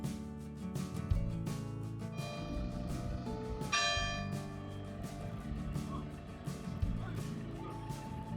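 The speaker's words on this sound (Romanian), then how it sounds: "Nu că ne-au tras și clopotele." Church bells ring repeatedly beside an old church in the Danube valley, with rich overlapping tones close by. Faint other sounds lie underneath.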